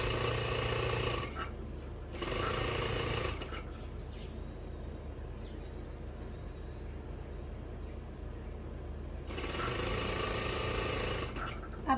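A sewing machine runs in short bursts, putting a straight double line of stitches onto a salwar, its steady mechanical whir starting and stopping with quieter pauses between runs.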